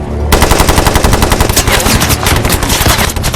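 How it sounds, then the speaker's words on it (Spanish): A Bren light machine gun fires a sustained, rapid automatic burst of closely spaced loud shots that runs unbroken throughout, in a World War II battle setting in Holland. "él ordenó a uno de los suyos disparar con una ametralladora a Bren"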